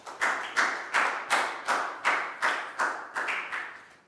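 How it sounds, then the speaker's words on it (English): Rhythmic hand clapping in a Year 4 classroom, about ten evenly spaced claps in a steady beat, close and clear, like a small group of students clapping in unison. "High five and a big round of applause for Pak Bung, guys."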